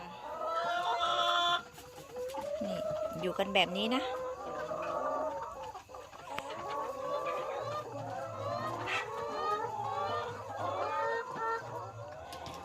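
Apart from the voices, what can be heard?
laying hens clucking in coop at night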